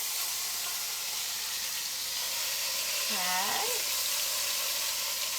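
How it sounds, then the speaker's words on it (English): Taco meat sizzling steadily in a hot pan as lemon juice deglazes it, a loud continuous hiss of frying throughout, with a brief spoken word partway through. "now we're going to deglaze and actually use a little bit of lemon"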